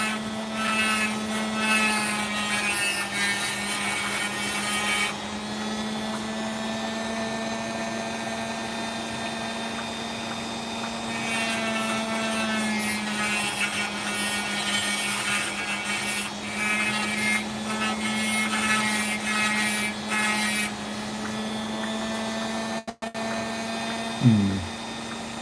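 A power tool carves through opal-bearing sandstone, giving a steady loud whine with a strong hum and brighter gritty bursts as it bites into the rock, then cuts off near the end.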